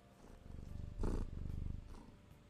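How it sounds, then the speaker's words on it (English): A cat purrs close to a microphone, a low, rumbling rhythmic vibration with a brief louder swell in the middle, heard on its own. "he was purring if you ended up hearing that on the mic"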